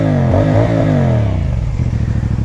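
A 2024 CFMOTO 450CL-C motorcycle's exhaust blips through a couple of quick revs, its pitch climbing and dropping, then settles into a lumpy, pulsing idle, loud and close.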